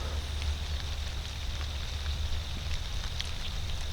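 Steady rain patters and hisses outdoors in cold weather during an evening deer hunt in Ohio, with a constant low rumble underneath and scattered drop taps, no voices.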